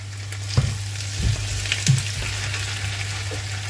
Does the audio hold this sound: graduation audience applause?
no